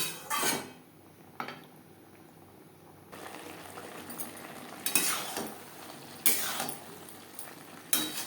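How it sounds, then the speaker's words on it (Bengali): Chickpeas frying with spices in a pan for chana masala over a medium-low flame, with a spoon clinking and scraping against the metal pan in scattered strokes over a soft background sizzle. "মশলার সাথে চানা আরও চার পাঁচ মিনিট বেশ ভালো করে কষিয়ে নেব"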